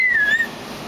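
A person whistles loudly, a single clear high tone that slides slightly downward for about half a second before fading out.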